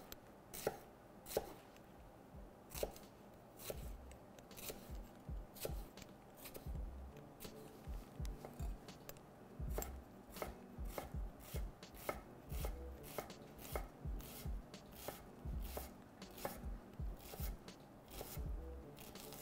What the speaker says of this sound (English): let's cut this shallot really nice and fine